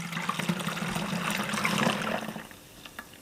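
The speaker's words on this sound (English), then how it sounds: "Pop that in and just pour this delicious black sesame" Black sesame milk pours through a plastic funnel into a bottle, a close, steady liquid gush lasting about two and a half seconds before tapering to a quiet trickle.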